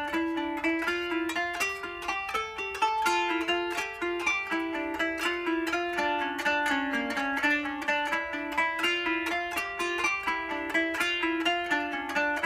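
Kanun notes plucked with a plectrum in a steady exercise, with small staccato touches from the other fingers damping the open ring, giving crisp, evenly paced bright plucks heard close with no voices.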